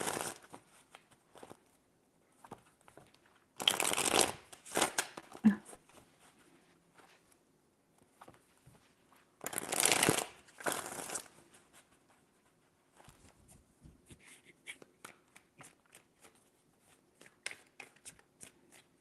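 Tarot cards are shuffled in two bursts of crisp riffling and flapping, separated by lighter card handling and soft taps, close up and fairly quiet.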